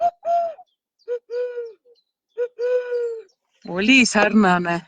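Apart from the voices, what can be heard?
stock dove cooing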